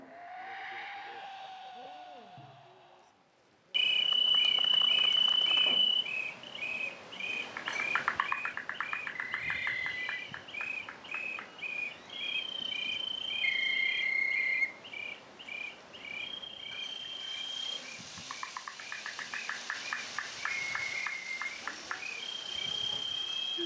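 Bird calls are imitated on handmade instruments, producing repeated high, thin chirps and whistled tweets over a continuous insect-like trill of background buzz, recorded outdoors in Guatemala.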